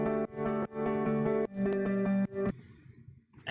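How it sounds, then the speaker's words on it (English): A processed synth guitar from the Ableton library plays sustained, effect-laden chords with a distorted, chorus-like shimmer, then cuts off into a faint reverberant tail. "I wanted to point out a synth guitar that I found in the Ableton library."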